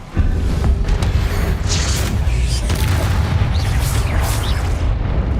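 A Confringo blasting spell explodes in Hogwarts Legacy, part of a loud, dense, continuous roar of booms and crackling bursts from the fighting, with game combat noise throughout.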